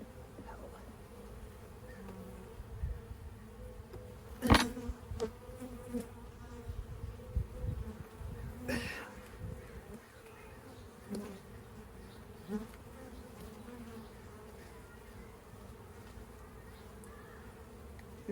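Honeybees buzz around an open beehive during a frame inspection, a dense steady hum close by with occasional louder passes and knocks of handling.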